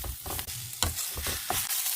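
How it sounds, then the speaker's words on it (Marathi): Semolina being roasted in a pan, heard as quick scraping stir strokes over a soft sizzle, several strokes in a row at close range with no talking. "तोपर्यंत आपण रवा आहे तो मस्त परतून घेऊया"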